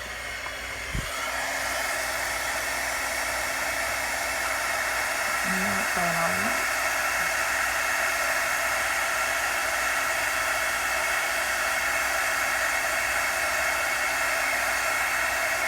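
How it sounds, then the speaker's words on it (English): A heat gun blasts hot air during a paper-crafting session, a steady loud whooshing hiss that runs continuously, with a brief bump at the start and a short voice sound partway through. "we're going to get my gun out here, my heat gun out quick"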